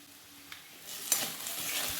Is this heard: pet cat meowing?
no